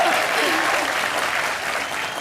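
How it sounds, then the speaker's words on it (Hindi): Studio audience on a Hindi comedy show applauds loudly, a dense steady wash of clapping that fills the whole short stretch with no pause. "तनीषा जी के लिए एक बार जोरदार तालियां हो जाए।"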